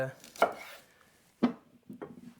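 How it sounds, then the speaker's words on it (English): A knife chops through vegetables on a board, cutting them in half: three sharp, close cuts spaced about a second apart, each a crisp thud, with no voices. "Cut in half. If you have really big ones, quarter them."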